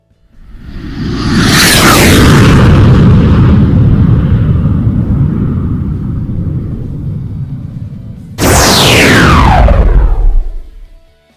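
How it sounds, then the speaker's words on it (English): A loud deep rumbling blast sweeps in and roars for several seconds, then a second sharp whooshing explosion hits near the end. "he hears bombing and planes and gunshots"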